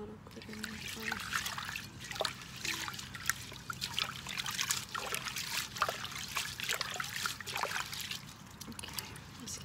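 Water trickling and dripping during an ASMR sound healing session with spearmint leaves and a solar plexus singing bowl, soft irregular splashes and dribbles close up, fairly faint over a quiet low hum.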